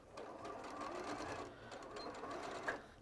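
A sewing machine stitches closed a fabric face piece for a toy head, a steady close whirring hum running throughout with a small click near the end.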